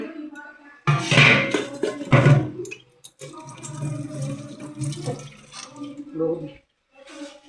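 Water being poured into a pan while cooking a pabda fish curry, heard as a couple of short splashy bursts near the start, with a person talking through most of the clip.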